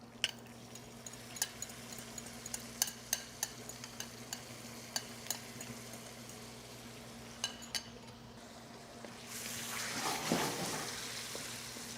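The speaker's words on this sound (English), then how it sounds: "So I am basically just stir frying the shallot," Shallot, garlic and tofu stir frying in sauce: a soft, steady sizzle under repeated light clinks of a utensil stirring, with the frying swelling louder near the end.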